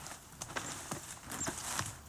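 Faint hooves of horses walking during travel in rural France, clip-clopping in a steady, unhurried rhythm against a soft, noisy outdoor background.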